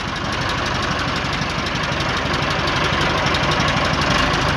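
A 1985 Massey Ferguson MF 265 tractor, a 70 hp used imported model, idles steadily with a constant close diesel rumble and knock throughout, with no starting heard.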